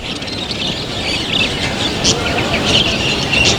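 Cockatiels and other birds at an exotic bird market in Karachi chirp and tweet continuously, a dense chatter of close calls over a busy rumble of market noise, with voices mixed in.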